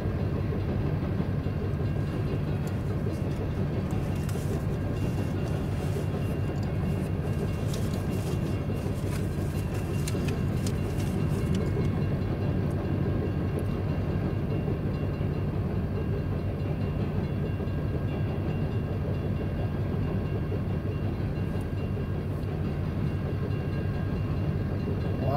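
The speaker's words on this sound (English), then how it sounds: "this is a long train." A long BNSF freight train rolls steadily past in Petersburg, Illinois, a continuous broad rumble of cars and wheels holding at even loudness throughout, with no talk.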